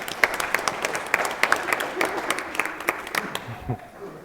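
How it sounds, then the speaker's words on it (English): Wedding guests at Aston Marina break into applause, a dense run of many hands clapping with sharp peaks that fades toward the end; no one speaks over it. "Give yourselves a big round of applause."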